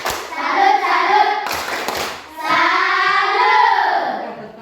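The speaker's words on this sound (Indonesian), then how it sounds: "kita berikan tepuk salut yang paling meriah untuk kelompok" Students in a classroom perform a group clapping cheer, bursts of rhythmic hand claps with brief chanted voices, pausing midway before a second round, fairly loud and close.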